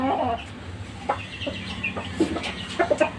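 Chickens cluck in short, irregular bursts close by, a few soft clucks scattered over a low background murmur.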